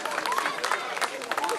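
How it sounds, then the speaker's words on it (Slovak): Applause for the Blavanka folk singing group at a maypole-raising celebration: steady, dense clapping from a crowd throughout, mixed with crowd noise and voices. "veľký potlesk našej speváckej folklórnej skupine Blavanka"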